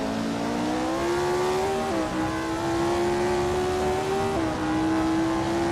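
A Ferrari 1512 race car engine holds a steady high-pitched howl while racing, climbing in pitch and dropping sharply at two gear shifts, loud and close with no talk.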